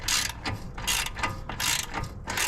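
A ratchet loosens the upper control arm bolt on a 2022 Audi during a front upper control arm replacement. It makes loud, close, rhythmic bursts of clicking, about five strokes with short pauses between them.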